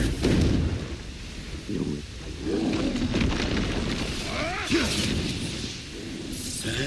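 Confringo spell blasts in the video game Hogwarts Legacy, deep booming explosive impacts with rumbling tails amid combat effects, loud and close, with a character's voice heard alongside.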